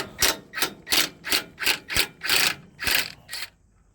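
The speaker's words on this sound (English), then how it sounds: "look out, he's got a power tool." A power tool working on parts being removed from a CCKW military truck during restoration, sounding in about nine short, sharp rattling bursts with brief gaps between them, up close and with no talking.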